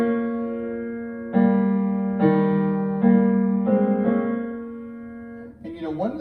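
Several sustained piano notes struck one after another in a slow, deliberate phrase, ringing out clearly with no talking.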